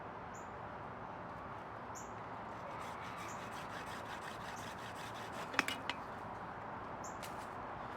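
PVC pipe is cut by hand, giving quiet, repeated rasping strokes in a soft back-and-forth rhythm with a couple of brief sharper clicks near the end.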